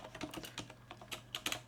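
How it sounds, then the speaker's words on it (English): Computer keyboard keys are tapped in a quick, uneven run of close, soft clicks over a quiet background. "let's type in hypertext markup"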